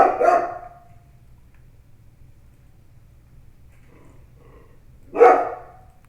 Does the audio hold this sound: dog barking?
yes